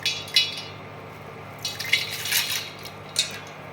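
Water and dry pasta poured into a cooking pot for pasta payasa, giving a few splashy pours and light clinks in short bursts, fairly close, with no talking.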